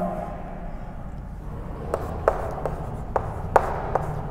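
Pen writing on paper during a class-3 maths lesson, soft scratchy strokes with several sharp taps and clicks at irregular intervals over a quiet room hum.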